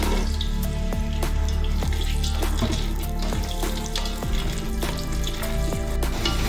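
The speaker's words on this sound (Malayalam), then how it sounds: "ഒരു പാത്രത്തിൽ നെയ്യിട്ട് നമുക്ക് ഡ്രൈ ഫ്രൂട്ട്സിനെ ഫ്രൈ ചെയ്തെടുക്കാം." Dry fruits frying in ghee in a pan for Kashmiri pulao, giving a steady close crackling sizzle with occasional clinks and scrapes of stirring throughout.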